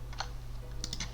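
A computer keyboard clicks under quiet typing, a few soft keystrokes near the start and then a quick cluster of taps, close and faint over a steady low hum.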